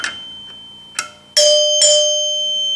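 Chime bells on a Gottlieb pinball machine being rebuilt ring out in a series of bright, clear strikes, the later ones louder, each tone sustaining and ringing on, with no talking.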